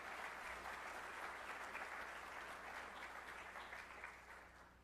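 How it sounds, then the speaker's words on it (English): An audience at a spring closing meeting applauds steadily for nearly five seconds, a dense, even wash of many hands clapping that tapers slightly at the end, with no voices over it. "That does deserve a round of applause."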